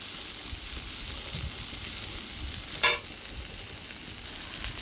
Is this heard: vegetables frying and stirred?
yes